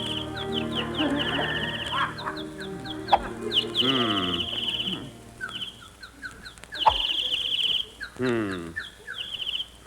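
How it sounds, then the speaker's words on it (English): Birds at a country club golf course, with clucking, rooster-like fowl calls and chirps repeating throughout under steady background music, fairly close and prominent. "Darn those birds. I wish they'd stop singing."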